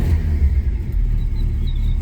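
A 1967 Peugeot 404 Coupé engine starting on choke, a close, loud low rumbling idle with uneven throbbing pulses.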